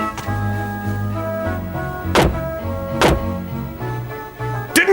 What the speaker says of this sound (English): Stop banging on my door and come in, curse you!